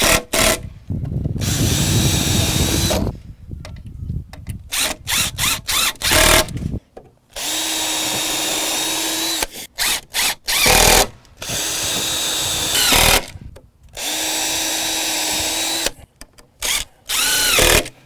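A power drill driving heavy-duty deck screws into wood boards for a jet ski dolly build, loud close bursts of whining motor, some long and some short, separated by quiet pauses.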